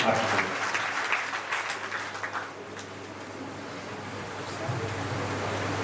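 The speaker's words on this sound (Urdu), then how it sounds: "تالیوں سے استقبال کریں" Audience applause at a mushaira and public gathering in Byculla welcoming a poet, a dense, sustained clapping over a steady low hum from the hall, continuing for several seconds before easing slightly.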